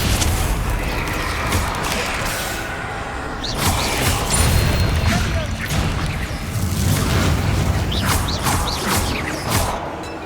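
A Bombarda blasting spell in Hogwarts Legacy going off as a dense, rumbling explosion with whooshes and crashing debris, loud and sustained through the whole stretch.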